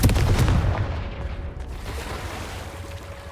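A Confringo fire spell explodes in Hogwarts Legacy with a loud, deep boom at the start that rumbles and fades over a few seconds, alone without talk.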